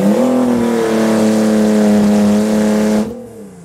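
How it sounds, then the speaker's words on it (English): A Nissan GT-R drag car's engine revs loud and steady with turbo boost building, a sustained rising drone held for about three seconds before it abruptly drops off. "so we got some boost building now"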